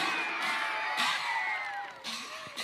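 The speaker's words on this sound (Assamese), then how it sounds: "মৰিগাঁওবাসী ৰাইজে আকৌ হাত চাপৰি মাৰি দিয়ে" An outdoor comedy show's crowd on a school playing field responds with sustained cheering, whoops and shouts in a dense, steady roar, with clapping blended into the noise throughout.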